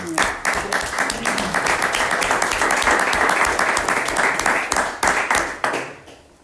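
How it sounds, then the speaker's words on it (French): The audience at a municipal council meeting applauds, a dense run of many hands clapping at close range that holds steady for several seconds before thinning into a few scattered claps at the end. "Je pense qu'on peut l'applaudir."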